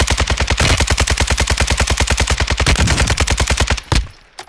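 Sustained automatic gunfire from Call of Duty Warzone 2.0, a loud, rapid, evenly spaced burst of shots for about four seconds, ending with a heavier blast and a fading tail.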